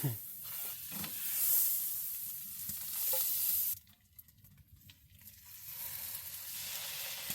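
Butter sizzles in a pan while bannock made from flour, baking powder and salt cooks at a winter camp. A steady, close hiss drops off partway through and then builds back to a softer fizz, with no talking.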